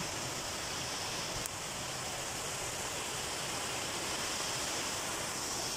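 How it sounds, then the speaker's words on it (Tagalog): A river flows in a steady, broad rush of water noise, continuous and even throughout, with no voices, heard from close by on a short walk outdoors. "naririnig nyo, guys, yung ilog"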